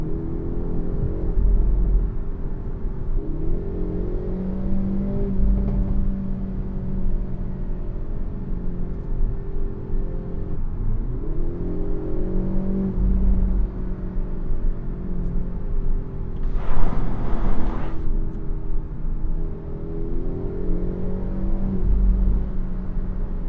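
A 2025 Hyundai Elantra N with a dual-clutch transmission accelerates on the road, its engine giving a steady, rising drone with a brief surge partway through. The sound is continuous and close, and no one speaks.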